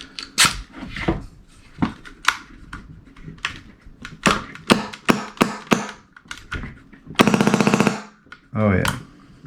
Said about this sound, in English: Now that I've got the gun back together, I'm going to run another test